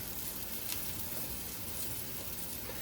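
Beef tips browning in a hot pan give off a steady, dense sizzle and crackle, constant and close with no talking.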